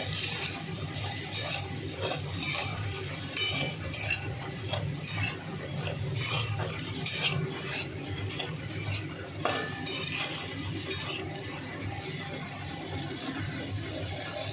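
Bottle gourd greens, potatoes and eggplant are stirred together in a frying pan, giving a continuous soft sizzle with repeated scraping and clinking of a utensil against the pan.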